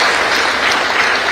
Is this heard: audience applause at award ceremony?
yes